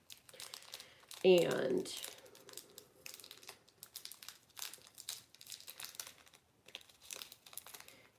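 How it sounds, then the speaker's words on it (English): Tape peeled off an object in one short, crinkly ripping burst near the start, followed by a person talking over quiet background sounds. "I'm going to try to take the tape off"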